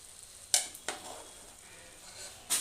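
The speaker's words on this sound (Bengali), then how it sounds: "দেখুন এবার চালটা কিন্তু প্রায় ভাজা ভাজা হয়ে আসছে" Rice frying in a pot over a charcoal fire for egg khichuri, heard as a faint, steady sizzle broken by a few sharp scrapes and clinks of stirring.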